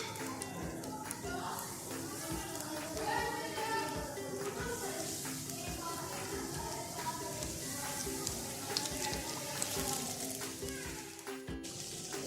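Chicken wings frying in hot oil in a pan over a medium flame, a steady bubbling sizzle running under continuous talk throughout.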